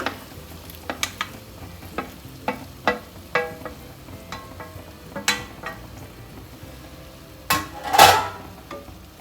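Okra sizzling in a pan on medium heat while a utensil stirs it, giving scattered sharp scrapes and clinks over a low frying hiss.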